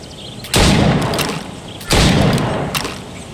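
Two loud gunshots from target practice in Assassin's Creed Rogue, each a sharp booming blast with a long echoing tail, spaced about a second and a half apart, with no talking.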